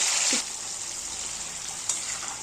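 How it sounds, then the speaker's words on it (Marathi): Prawns fry in very hot oil in a wok for prawn curry, a soft continuous sizzle with a brief louder hiss near the end, heard alone without talk. "कडकडीत तेलातच हिला तळून घ्यायचंय, नाही तर मग कढईला चिकटण्याची शक्यता असते"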